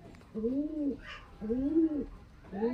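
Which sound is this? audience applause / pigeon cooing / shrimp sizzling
pigeon cooing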